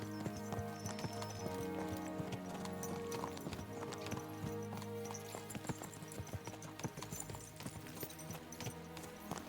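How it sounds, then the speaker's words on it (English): Rapid rhythmic clip-clop of galloping horse hooves with an occasional whinny in the video game Kingdom Come: Deliverance, layered over a steady musical score. "Let's really spur these horses on"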